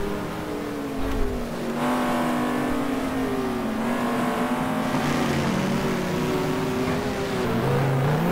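Audi R8 GT2 race cars lap Sandown in a racing video game, their engines holding a continuous, loud, rising and falling drone as they rev through the whole stretch.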